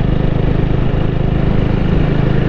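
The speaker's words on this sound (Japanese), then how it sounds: "あの単気筒エンジンでねトコトコトコトコ、 あの心地いいパルス感というかね" Single-cylinder engine of a Honda Rebel 250 motorcycle, loud and close, with a steady rapid thumping pulse throughout and no talk.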